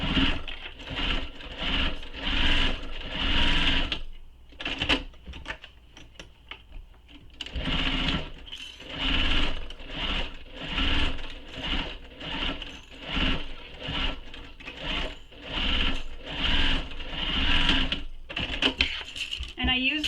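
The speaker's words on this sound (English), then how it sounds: "sew down and around and stop at the middle" Sewing machine stitching a satchel, rapid mechanical needle chatter in repeated bursts of several seconds each, separated by short pauses where the fabric is turned or the machine stops.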